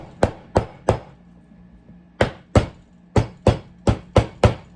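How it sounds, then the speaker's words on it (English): A hammer taps a flat back ring down on a metal ring mandrel in about ten sharp, close strikes, grouped in short bursts of two to five with pauses between, with no voices. "you may need to hammer that down a little bit."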